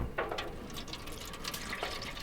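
Water poured into a container set on the lower rack of a gas grill, a soft continuous trickle and splash of filling liquid, fairly quiet and alone.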